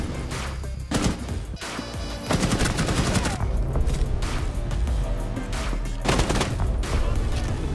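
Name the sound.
grenade and gunfire in Counter-Strike video game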